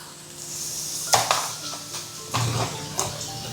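Chunky potatoes tipped into hot oil spiced with red chili in a pan, a soft steady sizzle punctuated by a few sharp clinks and taps of a utensil against the pan, close and moderately loud.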